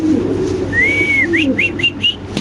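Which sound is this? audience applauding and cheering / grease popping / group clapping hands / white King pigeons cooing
white King pigeons cooing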